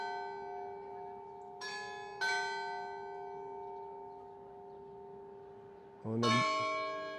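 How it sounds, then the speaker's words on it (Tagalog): A church bell rings with a few separate strikes whose tones linger and hum, the last strike louder, while a voice briefly speaks. "nag-bell na."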